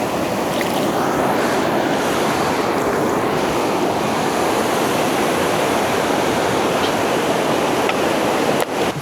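A river in a Maharashtra valley during the monsoon, its water rushing loudly and continuously nearby in a dense, steady roar, with a bit of wind buffeting and a brief knock near the end.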